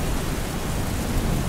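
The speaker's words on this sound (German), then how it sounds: "nachdem sich's dann mal so richtig schön eingeregnet hat, hat's dann auch wunderbar weiter geregnet" Rain falls steadily on the Jaufenpass mountain pass, a dense and loud broadband hiss with no speech over it.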